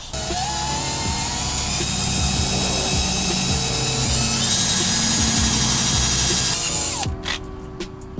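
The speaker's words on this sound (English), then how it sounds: "I'm gonna be wet sanding this with 1500 grit first" A plastic car headlight being wet sanded with 1500 grit sandpaper, a steady loud abrasive rasp with a machine-like whine throughout, continuous until a brief pause near the end.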